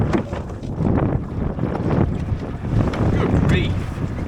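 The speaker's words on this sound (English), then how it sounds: "The wind is starting to die now, with only the odd gust passing through." Wind gusts buffet the microphone while sailing a dinghy on Lake Ullswater, a loud, rushing roar that swells and eases over a few seconds, with water sloshing beneath.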